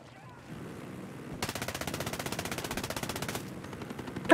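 Rapid automatic gunfire in the video game Ghost Recon Breakpoint, a sustained burst of fast, evenly spaced shots lasting about two seconds, followed by scattered rounds and a louder bang at the end.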